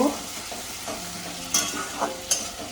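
Onion paste fries in a pan for a paneer dish, a soft steady sizzle broken by a few distinct scraping stirs from a spatula, close and alone with no talk.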